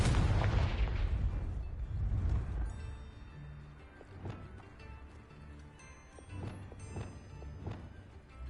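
A Confringo spell from the video game Hogwarts Legacy detonates in a loud, booming fiery blast at the start, its rumble decaying over several seconds, followed by scattered thuds and crackles.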